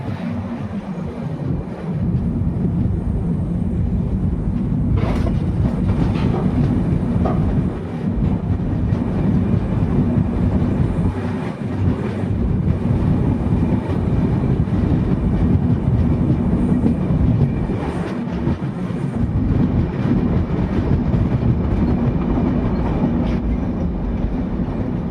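An overnight express train, 18574 Bhagat Ki Kothi–Visakhapatnam Express between Makrana and Baran, runs steadily with a constant loud rumble and rattle of the coaches, and faint clacking of the wheels passes through.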